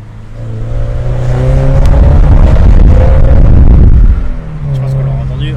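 A Toyota GT86 sports car engine revs up loudly, its steady droning tone climbing and holding strong for several seconds before dropping back toward idle, close and powerful.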